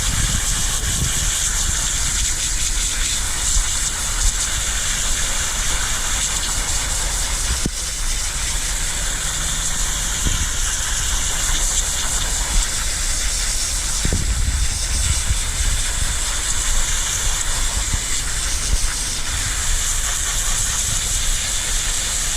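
A garden hose sprays water steadily onto a pool filter cartridge outdoors, a continuous close hiss and rush with no break, loud and alone.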